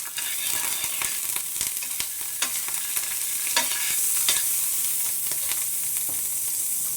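Homemade butter sizzles loudly and continuously in a hot pan with a little oil for masala pav, with occasional scraping stirs over the crackle.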